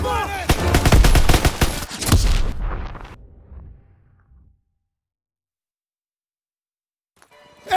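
Dense bursts of machine gun fire and booming explosions from the World War II shooter Call of Duty WW2 roar loudly for about three seconds, then die away into silence before a faint rumble returns.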